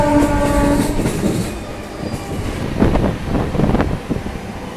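A local train on the Bandel to Barddhaman line runs steadily with a constant rumble and wind noise, a horn sounding at the start, then rhythmic clickety-clack of wheels over rail joints, loud and close.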